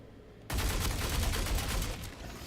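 Laser cannons fire in the Star Citizen space game, a sudden loud burst of rapid repeated shots that runs continuously for about two seconds before easing off.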